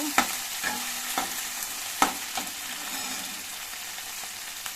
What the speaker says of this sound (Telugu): బాగా మిక్స్ చేసుకోవాలండి తర్వాత బాగా పచ్చి పచ్చివాసన పోయేటట్టు బాగా వేయించాలన్నమాట